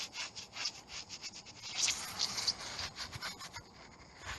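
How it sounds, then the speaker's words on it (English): A brush rubs PVA sealer onto brickwork in short repeated strokes, soft scratchy swishes at close range, fairly quiet. "Now I just need to seal this brickwork with this PVA."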